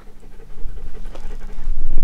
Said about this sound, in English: You can probably hear Dexter panting.